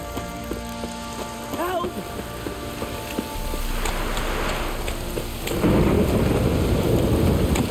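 Steady rain with rolling thunder in The Witcher 3: Wild Hunt, building into a heavier downpour; faint tones and a brief squeaky sound sit underneath.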